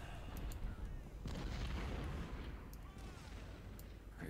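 Artillery fire in a Confederate Civil War campaign video game, a dense, continuous rumble of booms and distant cannon blasts heard in the game mix.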